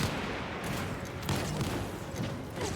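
Explosions and gunfire in the video game The First Descendant, a run of rapid bursts and booms with several sharp hits layered over a busy, continuous combat din.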